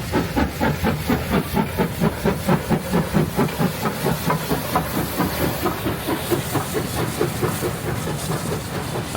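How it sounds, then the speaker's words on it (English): The Tasmanian Transport Museum's M5 steam locomotive hauls a narrow-gauge special train on a former suburban line, with loud, close rhythmic exhaust chuffs over hissing steam and rolling wheels, steady and unbroken. "the Tasmanian Transport Museum's M5 hauls a special train over the former suburban line"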